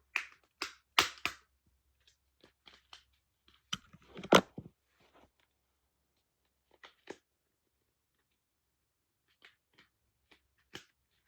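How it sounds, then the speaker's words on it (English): A back cover being opened on a senior-friendly mobile phone from an Australian brand, heard as a burst of sharp plastic clicks and snaps near the mic, then a few scattered faint clicks against quiet. "I'm just gonna open the back cover."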